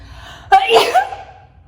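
A single close, forceful sneeze bursts out after a quiet moment, trailing off into a soft breathy tail.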